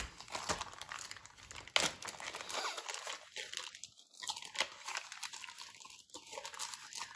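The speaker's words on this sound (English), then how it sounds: "let me take it out of the cellophane" Cellophane crinkles and crackles up close as a stamp set is pulled from its wrapper, in uneven bursts with no talking.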